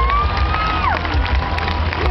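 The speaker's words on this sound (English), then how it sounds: "You can clap now." Street festival crowd at Gentse Feesten in Ghent cheers and claps, a loud continuous roar of voices and hands with a rising then falling whistle or whoop cutting through.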